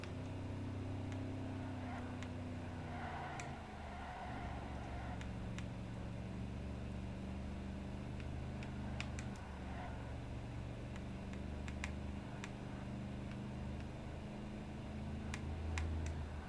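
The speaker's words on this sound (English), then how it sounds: "sit back, relax, and enjoy the sounds of classic Fords" Classic Ford car engines in the Ford Racing 3 video game, a faint low droning hum whose pitch slowly shifts as the cars drive, with occasional small ticks over a quiet background.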